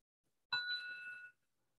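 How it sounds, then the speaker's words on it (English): A small bell rung once to begin a devotional chant, a bright ringing strike with a shimmering tone that holds for under a second and then stops, alone in quiet surroundings. "I'll sort of ring this bell each time we start."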